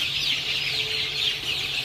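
A chicken clucks softly while held by hand for beak trimming, its head steadied between thumb and fingers, over a steady broad hiss of background noise.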